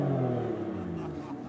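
An Aston Martin engine rumbles loudly on a London street in a brief deep revving burst that settles lower, with a voice speaking over it.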